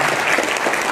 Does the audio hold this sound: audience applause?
yes